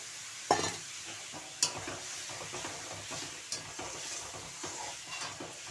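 Karkol vegetable being sautéed with spices and a splash of water in a pan, a steady close sizzle broken by a few sharp scrapes and clicks of a stirring spoon against the metal.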